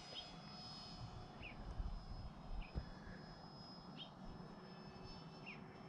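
A Freewing Pandora RC airplane flies overhead, its electric motor a faint, thin whine over steady outdoor background noise with a few brief pitch changes, and no one speaking.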